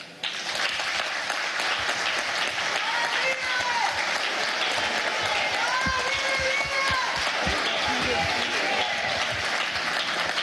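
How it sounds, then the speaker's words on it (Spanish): An audience at an international summit against fascism applauds steadily, a dense and even roll of many hands clapping that holds for about ten seconds, with faint voices beneath. "Un aplauso"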